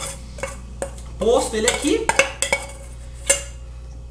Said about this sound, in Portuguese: E a gente vai despejá-lo aqui na nossa, no nosso prato